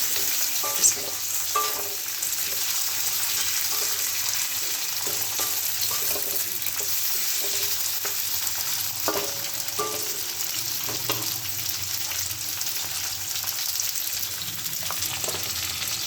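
Pumpkin pieces added to frying vegetables for spinach ghonto, a steady close sizzle with scattered soft stirring and clinking strokes, with no one speaking.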